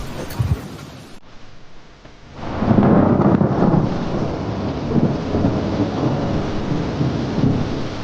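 Thunder cracks and then rolls in a long, heavy rumble on a dark rainy night, with steady rain hissing underneath throughout and no voices.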